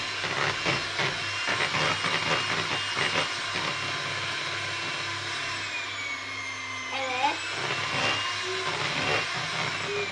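An electric mixer whirs loudly through cake batter in a home kitchen, a steady buzzing whine that shifts pitch as it works, with family members talking over it.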